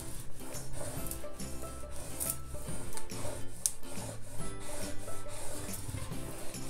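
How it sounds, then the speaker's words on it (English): A squeegee tool is rubbed firmly over transfer tape to press down permanent vinyl on an acrylic painting, a continuous close scraping and rubbing with quick repeated strokes and no speech. "Get my squeegee tool."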